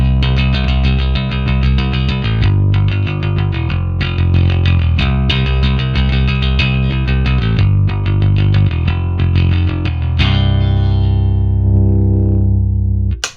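Homemade bass guitar played through its mid-range tone control, a loud, distorted riff of steady picked notes with shifting pitch, ending on a sustained ringing note.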